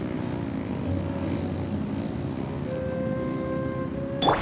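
Aircraft engines drone steadily in the Genshin Impact video game. The hum is continuous and fairly loud, with a brief sharp sound at the very end.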